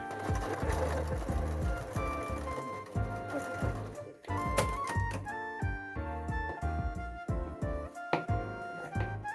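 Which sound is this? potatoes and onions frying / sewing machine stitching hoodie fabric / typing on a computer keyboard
sewing machine stitching hoodie fabric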